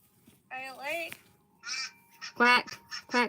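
Ducks quack and honk loudly up close in several harsh, nasal calls with short pauses between them.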